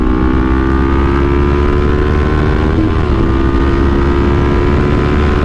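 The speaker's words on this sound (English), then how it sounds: "That's full throttle right there, baby." A Kawasaki Ninja 400 motorcycle engine drones loud and steady at full throttle, its pitch holding high with a brief dip and rise midway, heard close with no talk.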